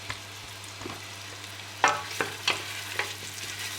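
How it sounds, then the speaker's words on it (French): Chopped red onion sizzles softly in a hot pan, a low steady fry broken by a few sharp scrapes and stirs of a utensil near the end. "pour l'oignon, on va commencer à le faire revenir un petit peu, 2-3 minutes"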